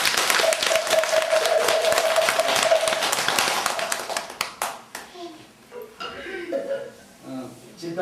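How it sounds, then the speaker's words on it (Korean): A class audience at a Buddhist lecture claps together for a few seconds, a dense burst of hand claps that fades into scattered voices and light laughter. "박수 한번"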